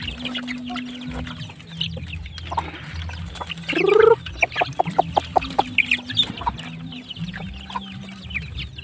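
Backyard chickens clucking in a flock, several hens close by giving low repeated clucks and short bursts, with one louder squawking call standing out midway and staccato cackles following.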